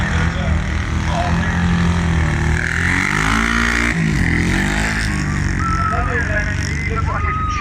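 A car engine drones and rises in pitch at the Kop Hill climb as a vehicle passes, with a voice talking over the engine noise throughout.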